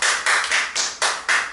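A church congregation clapping together, six firm, evenly spaced bursts of applause in a brisk rhythm, loud and close with no talking over it.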